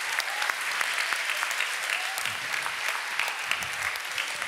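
Steady audience applause at a youth science competition award ceremony, dense even clapping from a crowd throughout, with faint voices underneath.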